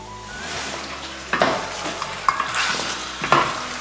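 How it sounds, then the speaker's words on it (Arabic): Onions and meat fry in a pot over low heat, giving a steady close sizzle with occasional stirring scrapes and clinks on top. "انا في الحقيقه نحب نقلي البصل مع اللحم ونديرو على نار قليله"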